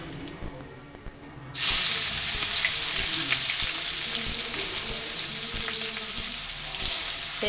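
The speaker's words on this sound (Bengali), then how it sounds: "পেঁয়াজিটা ভাজা ভাজা হোক" Chopped onions hit hot oil tempered with nigella seeds in a pan while cooking a spicy boal fish curry, bursting into a loud, steady sizzle after a quiet start that keeps hissing evenly to the end.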